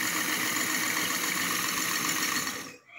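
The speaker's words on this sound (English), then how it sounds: "I think this whisker whisks so fast." Motorised Lego Technic whisking machine spinning fast, a steady dense whirring mechanical drone that holds evenly for nearly three seconds before cutting off abruptly, with no voices.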